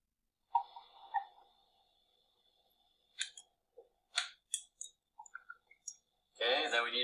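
Sparse, irregular clicks and small snapping taps close up, separated by quiet gaps, with a brief burst of voice at the end.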